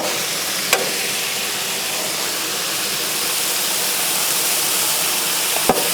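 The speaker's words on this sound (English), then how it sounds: "Shove a little water under there and get those steaming." Water hisses and steams steadily under carrots and pork on a hot griddle, a loud continuous broadband sizzle with two brief clicks near the start and end.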